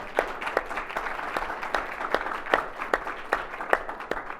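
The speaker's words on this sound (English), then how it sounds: "How about a round of applause for our panel?" Moderate applause for a panel at a clinic business conference, thinner and more scattered, with distinct individual claps standing out in an irregular rhythm.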